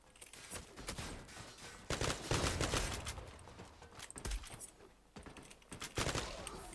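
Gunfire in the online shooter Zula, with repeated bursts of shots and sharp cracks arriving in uneven clusters, some louder and nearer, over a busy background of game noise.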